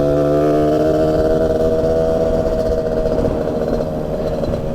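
A CASA SST 265 motorcycle engine drones steadily and loudly while being ridden, with a strong buzzing exhaust note that eases slightly toward the end.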